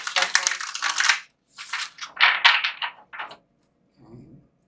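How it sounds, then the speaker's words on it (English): Large, bulky oracle cards being shuffled during a tarot reading: stiff, papery riffling bursts in two clusters, close and fairly loud, followed by a soft low rustle. "These cards are very hard shuffling."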